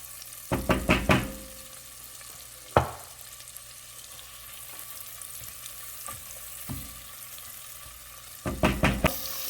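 Diced onions and green pepper sautéing in butter in a pan for chicken à la king, a steady soft sizzle broken by bursts of clattering stirring and scraping utensil knocks near the start and end.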